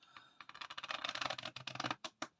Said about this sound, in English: Break your packet about in half and give them a proper riffle shuffle, but a closed one.